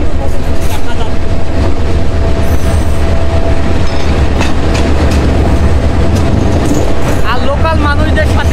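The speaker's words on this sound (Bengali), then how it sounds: "লোকাল মানুষদের সাথে লোকাল ট্রেনে এইভাবে জার্নি করতে আসলে খুবই ভালো লাগে।" A local passenger train from Chattagram to Bandarban runs along the track. Loud, continuous rumbling and rattling carry on throughout, with rhythmic clacking and a brief wheel squeal near the end. Faint voices sit under the noise.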